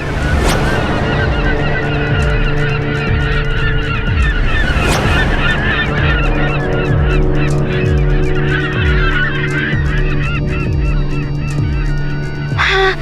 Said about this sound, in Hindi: वो देखो, वहाँ पे पक्षी दिखाई दे रहे हैं।